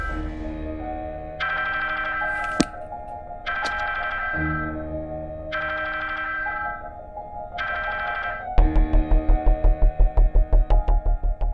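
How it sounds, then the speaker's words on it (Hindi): A mobile phone ringtone plays a repeating melodic chime pattern, then switches to a rapid buzzing ring pulse near the end, fairly loud and close. "आपका फोन बज रहा है।"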